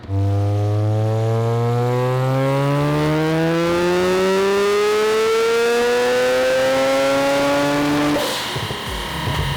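A 700 hp Mazda RX-7 in a 2200 lb car screams through a full dyno pull, its engine note climbing steadily in pitch at full volume past 8,000 RPM before cutting off abruptly near the end.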